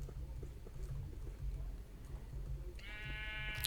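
A single sheep bleat in the Minecraft video game, a wavering nasal call near the end that rises over a constant low ambient hum and background game sounds.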